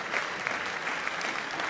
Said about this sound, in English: So please, big applause for Maros Sefcovic for the presentation